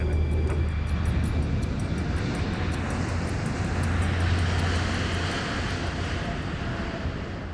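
Airliner engines roar steadily during the takeoff climb, a loud continuous jet drone with a low hum throughout.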